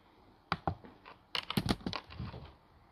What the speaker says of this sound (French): j'ai besoin de mon clavier. J'ai un R à marquer.